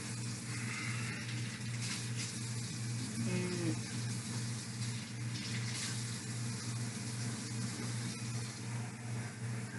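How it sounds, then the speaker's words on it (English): Steady running water pours from a tap into a cup, a continuous rushing flow with a low hum underneath, close by and fairly loud throughout. "Okay, we're getting a cup of water."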